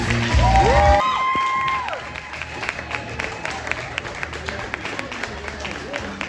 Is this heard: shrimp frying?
no